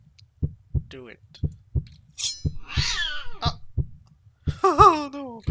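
A cat character in the Good Boy game meows several times in drawn-out, rising calls. Steady thumping heartbeat pulses run underneath, and a final louder wail comes at the end.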